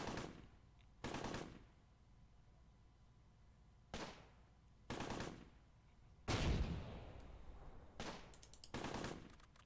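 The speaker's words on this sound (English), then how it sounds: "lay down a ton of suppressive fire with the 3 MGs and main gun" Machine-gun bursts from Sherman tanks in the Close Combat wargame, seven or eight short separate rattling volleys spaced a second or two apart, one heavier blast near the middle, over a quiet low background.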